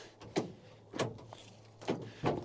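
An old 1949 truck door being worked open, with several separate clunks and latch knocks spaced through a couple of seconds, close by and fairly quiet.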